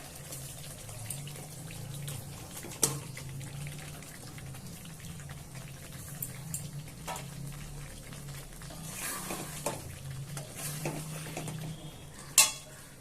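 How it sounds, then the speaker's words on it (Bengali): Cauliflower goes into a pan of spiced masala and is stirred, with scattered utensil scrapes and clinks against the pan over a low steady hum. A few sharper knocks stand out. "এবার আমি দিয়ে দিচ্ছি ফুলকপিটা"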